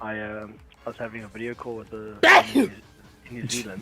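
One sharp, loud sneeze bursts in close to the microphone after a stretch of talking, and a smaller second burst follows moments later.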